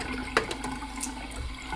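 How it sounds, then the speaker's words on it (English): A hospital sink tap runs steadily, a soft broadband wash of water with a faint clunk near the start, close by and without speech. "you need to turn the tap on. Water obviously as hot as you need it."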